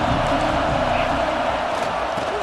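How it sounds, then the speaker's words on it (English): A packed stadium crowd roaring steadily through a football game, one continuous dense wall of cheering with no pauses. "This crowd ready to make its presence known."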